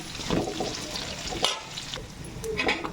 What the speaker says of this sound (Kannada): ಹಸಿಮೆಣಸಿನ್ಕಾಯಿ ಎಲ್ಲ ಬೆಂದಮೇಲೆ ಕ್ಯಾಪ್ಸಿಕಮ್ ಈರುಳ್ಳಿ ಹಾಕ್ಕೊಳ್ಳೋಣ.